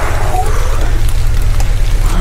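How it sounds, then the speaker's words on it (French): Rain falling outdoors at night, a steady close patter of drops with a constant low rumble underneath, filling the short stretch without pause. "Attendez la pluie tomber."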